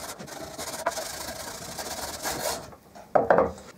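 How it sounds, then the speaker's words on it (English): Buffing compound rubbed by hand onto an MDF board clamped in a vise makes a dry, rasping scrape in short strokes, close and alone, with a slight pause before two final harder rubs. "with the buffing compound, I'm just going to rub that on there."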